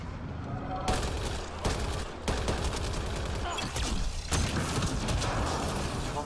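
Sci-fi firefight in Mass Effect: Andromeda, with dense bursts of rapid weapon fire and sharp impacts going almost continuously, loud and close, as combat voices call out over the shooting.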